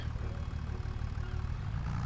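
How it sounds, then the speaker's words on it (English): Steady low engine idle of a vehicle in Farming Simulator, a constant rumble with no clear restart, running alone throughout. "Engine back on."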